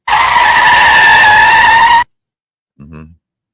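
A loud, sustained tire screech lasts about two seconds and then cuts off abruptly, followed after a pause by a short low thud.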